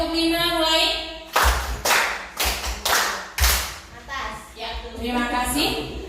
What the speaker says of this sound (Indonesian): Ayo tepuk 5 mulai.